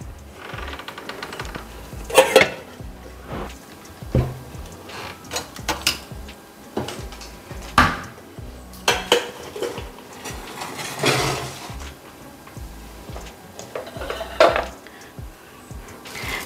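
Metal pot and lid clatter repeatedly with scraping and knocking while cooked rice is drained, busy kitchen handling sounds in irregular bursts, fairly close.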